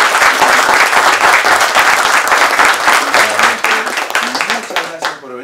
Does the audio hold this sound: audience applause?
yes